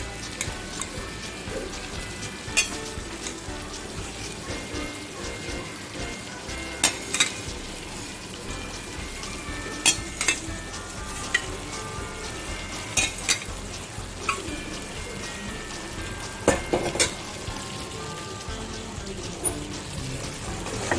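Paneer cubes fry and sizzle steadily in a pan for a long stretch, punctuated by repeated sharp clinks and scrapes of a spatula stirring, for a yogurt-gravy doi paneer dish.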